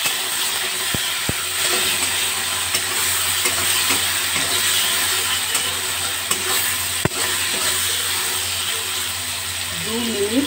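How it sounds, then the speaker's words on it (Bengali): Potatoes fry with salt and turmeric in a pan over a raised gas flame, a steady close sizzle broken by a few sharp clicks and scrapes from stirring. "দু মিনিট আলুগুলো ভাজা হবে।"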